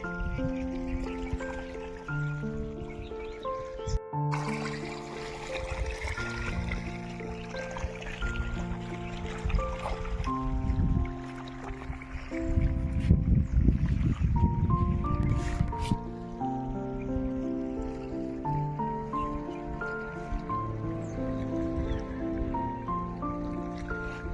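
Water trickles and gurgles steadily nearby through an irrigated peanut field, with scattered drips and squishy splashes, swelling briefly louder midway; no one speaks.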